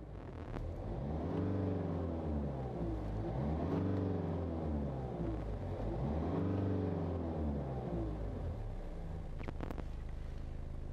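A car engine revs up and settles back three times in a steady rhythm as the accelerator pedal is pressed while the car sits still and diagnostic data is logged, close and loud with no talking.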